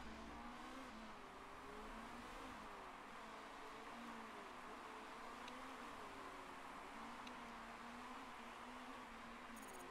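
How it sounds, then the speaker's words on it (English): Race cars in a racing video game pull into the pits, their engines droning and revving steadily with wavering pitch under a constant wash of noise, distant and fairly quiet. "Bunch of other cars pitting."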